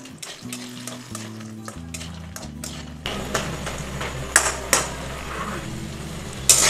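Badi (lentil dumplings) fry in hot oil in a kadai with a steady crackling sizzle, broken by scraping stirs and a few sharp metallic knocks against the pan.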